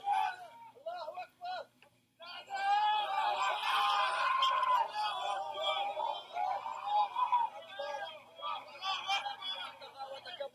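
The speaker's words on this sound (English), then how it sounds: "that is the sound of absolute grief as they're pulling people out of the houses here" Grief-stricken wailing and crying from people as bodies are pulled from rubble of houses in Beit Hanun in northern Gaza. Mournful voices rise and fall continuously outdoors at moderate distance, with overlapping cries.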